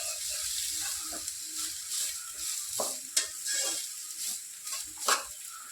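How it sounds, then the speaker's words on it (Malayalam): Plantain peel fries in a pan while being stirred, a steady sizzle under repeated scraping strokes of a spoon, with a few sharper clacks against the pan. "ഏത്തക്കയുടെ തൊലി ഇട്ട് കൊടുക്കാം നല്ലപോലെ ഇളാക്കി കൊടുക്കാം"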